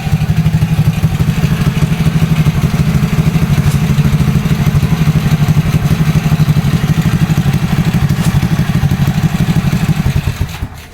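A motorcycle engine holds steady at full revs on stock charging, a loud, close, buzzing drone that runs unchanged for about ten seconds before cutting off.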